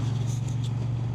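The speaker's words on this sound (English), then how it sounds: "it's bloody nice to be out here in the engine roar" Triumph Bonneville T100 twin-cylinder motorcycle engine running close by, a steady low throbbing rumble with wind noise on top.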